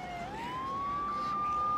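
A mobile phone ringtone imitating a police siren plays as a single continuous rising wail that levels off, fairly clear over faint background noise.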